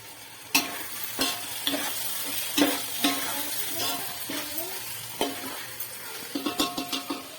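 Ginger garlic paste frying and being stirred in a pan for a special chicken dish, with a steady sizzle broken by repeated sharp scrapes and clinks of the spoon against the pan, close and fairly loud.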